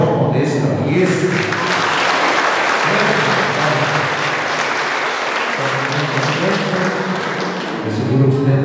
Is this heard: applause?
yes